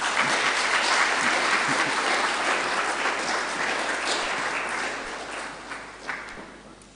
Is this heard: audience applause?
yes